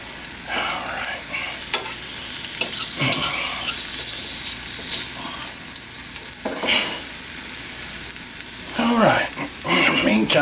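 Bacon fries in a skillet with a continuous crackling sizzle, broken by louder scraping as a piece is turned, while someone talks over it.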